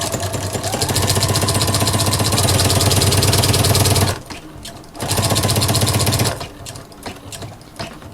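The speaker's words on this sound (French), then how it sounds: "le pied double entraînement est quand même un peu plus bruyant que le pied normal" A sewing machine fitted with a walking foot stitches a seam on a notebook or planner cover, a loud, steady mechanical whir with rapid rhythmic clatter that runs about four seconds, pauses briefly, resumes for a second stretch, then stops.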